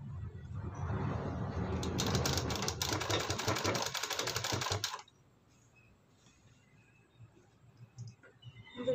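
Sewing machine stitching a boat neckline, a dense rapid mechanical chatter running steadily for about five seconds, then stopping abruptly into near silence with faint handling sounds.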